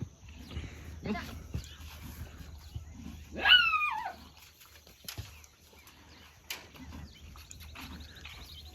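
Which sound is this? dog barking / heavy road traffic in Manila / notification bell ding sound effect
dog barking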